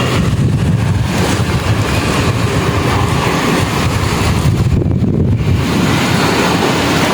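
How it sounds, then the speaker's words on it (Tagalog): Strong typhoon wind roars outside during a storm, a loud continuous rushing gust with heavy low rumble and microphone buffeting, steady throughout with no voices. "Yan ang hangin."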